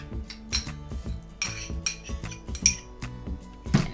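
A utensil whisks egg and vanilla extract in a bowl for pastry dough, giving quick rhythmic clinks and taps against the side, about two strikes per second, close and clear.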